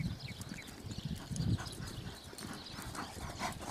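A chestnut working horse, used to cattle work, walks with steady, fairly close clip-clopping hoof beats over a soft noisy background, with no talking.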